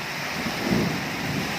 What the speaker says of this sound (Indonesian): terjadi hujan badai di Sirnagali